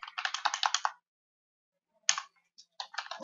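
Quick bursts of keystrokes on a computer keyboard while entering network settings, a rapid clatter of clicks, then a pause, a single tap and another short run of typing, close and clear.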